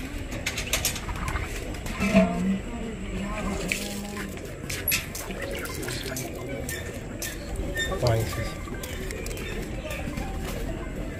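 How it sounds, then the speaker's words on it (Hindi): Pigeons at an outdoor pigeon-keeping gathering, with soft low cooing and occasional wing flaps heard faintly under steady background noise and someone talking. "माशाल्लाह बड़ा अच्छा कबूतर है।"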